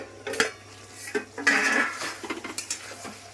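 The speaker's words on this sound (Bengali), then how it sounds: "এখন ঢেকে দিচ্ছি" A metal pot and utensils clatter in a home kitchen as a lid is set over a potato curry, several sharp clinks and scrapes of varying loudness with quiet gaps.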